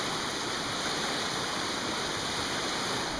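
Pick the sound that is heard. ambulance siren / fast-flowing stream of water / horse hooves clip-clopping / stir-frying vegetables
fast-flowing stream of water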